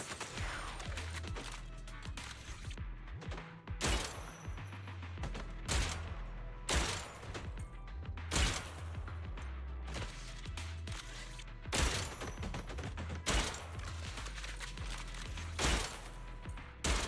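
Rapid video-game gunfire sounds in repeated bursts every second or two over a steady low, rhythmic backing track, all fairly faint and without talk.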